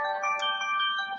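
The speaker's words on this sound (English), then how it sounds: "Got a text message." A phone chimes with a text message notification during a spoken church message: a short, bright, melodic electronic alert that rings steadily and fairly loudly, with no talking over it.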